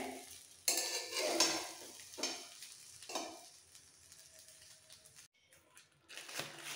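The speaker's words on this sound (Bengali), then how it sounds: "Biryani rice, chicken rice mix করে ফেলতে হবে।" A spoon scrapes and stirs through chicken biryani rice in a pot, producing soft shuffling scrapes and clinks in uneven bursts with brief pauses, fairly quiet and close.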